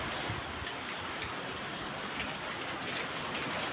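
Rain falls steadily outside a house window as a dense, constant hiss, close and even, with no talking.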